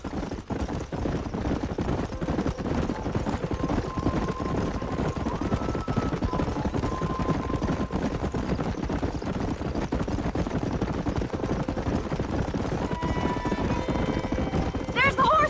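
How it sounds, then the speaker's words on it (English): Horse hooves clip-clop in a rapid gallop in the video game Red Dead Redemption, a continuous busy layer under game voices shouting, with a whinny near the end. "There's the horses!"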